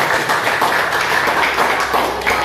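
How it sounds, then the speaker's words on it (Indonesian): A classroom of students clapping their hands together, a dense, steady burst of claps that carries on for a few seconds at close range. "tepuk tangan untuk kita"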